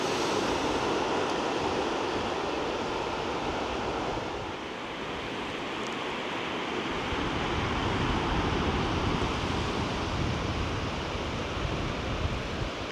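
Surf rolls steadily onto the shallow sandy shore of Greens Beach in Tasmania, a constant broad wash of waves mixed with wind, moderately loud and continuous with no talking.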